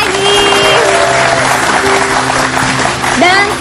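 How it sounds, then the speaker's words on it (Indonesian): A studio audience at a television talk show applauds steadily, dense clapping running under a host's excited voice and a sustained musical tone, with a brief rising vocal cheer near the end. "Yeay, tepuk tangan lagi."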